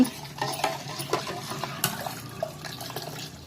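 A spoon stirs a milk and jaggery mixture for junnu, giving soft, irregular scrapes and faint liquid swishes in a quiet kitchen.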